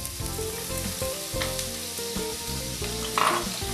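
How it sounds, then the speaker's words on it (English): Golden-browning onions sizzle in about three tablespoons of canola oil, a steady hiss running beneath a loud, continuous musical background with no voices. "Fry your onions until they are golden brown."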